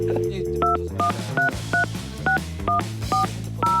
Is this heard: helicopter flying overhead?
no